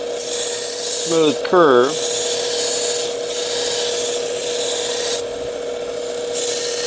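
A pocket knife's recurve blade is ground in a long, even rasping stroke that runs nearly unbroken, with a brief spoken phrase near the start.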